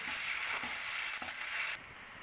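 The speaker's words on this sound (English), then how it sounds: "we'll fry the onion till golden brown" Onion fries in a pan for an Assamese fish curry, a loud close sizzle with faint stirring ticks that drops abruptly in level just before the end.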